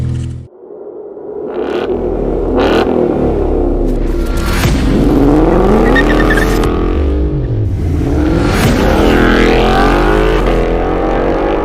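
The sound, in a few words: Ford Bronco with AWE catback exhaust starting and driving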